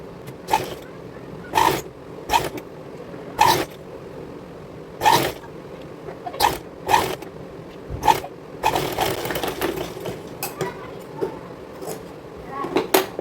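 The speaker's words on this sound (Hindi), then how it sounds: "इस तरह से इसको ज्वाइंट करके और यहाँ पर हम सिलाई लगाएंगे, 2 फोल्ड करेंगे इस तरह से और यहाँ से सिलाई लगाना स्टार्ट करेंगे पूरे गले पे।" A sewing machine stitches a folded strip along the neckline of a young girl's dress, running in short repeated bursts and then one longer run, with speech between the bursts.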